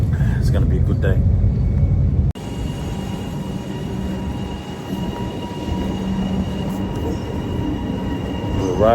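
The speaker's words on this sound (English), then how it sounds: "We're on a train, something I haven't done for so many years." A passenger train in Melbourne rolls along the rails with a loud, steady rumble, clattering wheels and a brief squeal of wheels near the end, with a sharp break early on as the sound shifts.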